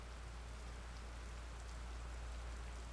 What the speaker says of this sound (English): I can hear the sound of rain coming from somewhere. It's a prolonged, quiet drizzle.